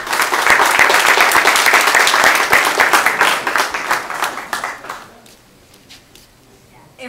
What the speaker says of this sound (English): If we could just have one more round of applause for these wonderful innovative companies